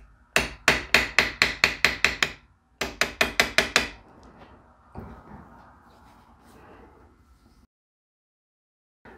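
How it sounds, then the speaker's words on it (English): A small ball peen hammer drives drive screws into a Delco Remy starter for a Graham engine, with two quick bursts of sharp metallic taps, about ten then five, followed by faint handling clatter. "And that's best done with a little ball peen hammer."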